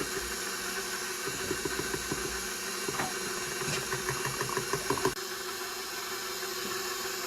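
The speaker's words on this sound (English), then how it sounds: "I've got the mixer on low." An electric stand mixer running on low speed gives a steady mechanical whir with faint rhythmic ticking, then abruptly drops to a quieter hum near the end.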